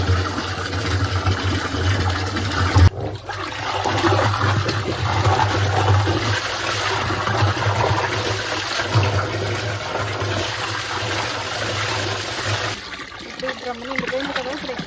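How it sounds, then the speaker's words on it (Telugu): Water rushing steadily into a drum on a farm, a loud continuous gush with a low humming drone beneath, cutting off briefly near the start and fading near the end, with voices talking over it. "డ్రమ్ నిండిపోయింది కదా"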